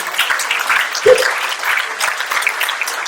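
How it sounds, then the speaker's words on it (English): Steady applause from a gala dinner audience honouring George Etomi, continuous and fairly close for about three seconds, with a brief voice cutting in partway through. "Can we clap for George Etomi, please?"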